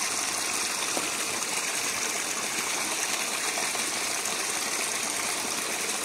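A village stream flows with a steady, dense rushing wash, constant and fairly loud throughout, with no voices.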